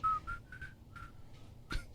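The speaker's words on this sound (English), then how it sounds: "Your whistling is great." A person whistles alone, giving a series of short, clear, high-pitched notes in a quick uneven rhythm, close and moderately loud.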